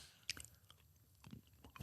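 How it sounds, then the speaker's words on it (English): People chewing chewy green apple candy, soft wet mastication and a few crisp bites scattered across a short, quiet stretch, close to the mic with no talking. "I bet you love listening to us chew."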